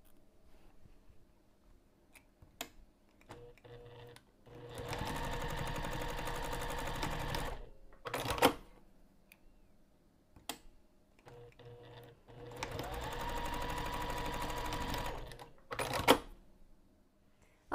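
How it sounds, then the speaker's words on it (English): A sewing machine stitching the long edges of a bag strap: two sustained bursts of rapid mechanical chatter, each a few seconds long, separated by quiet pauses filled with small clicks and handling taps. "we're going to stitch both of the long edges using a quarter of an inch seam allowance"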